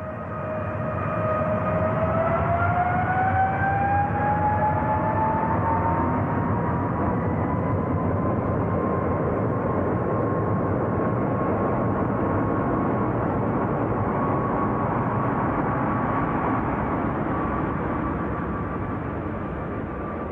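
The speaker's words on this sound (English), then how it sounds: "Test followed test as the team alternated takeoffs and landings in escalating degrees of wetness." Boeing 777 jet engines during a takeoff or landing test run on a wet runway, a sustained loud roar with a rising then levelling whine that holds steady for about twenty seconds.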